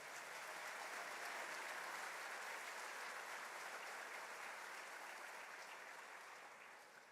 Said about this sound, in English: How about giving them a big round of applause?